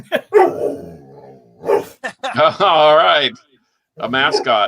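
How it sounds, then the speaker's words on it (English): A pet dog barks in sharp, repeated bursts during a live podcast recording, loud and close, overlapping with people talking. "apparently my dog is making her appearance too"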